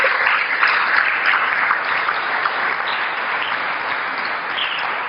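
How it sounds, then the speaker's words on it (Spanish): A church congregation applauds steadily throughout, a dense, even wash of many hands clapping indoors with no voices breaking through. "Den un aplauso al Señor, aleluya."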